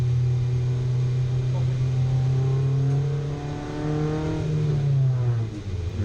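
An endurance race car pulls out of the pit lane, its engine droning and rising in pitch through the gears, heard steadily from on board while a voice talks over it.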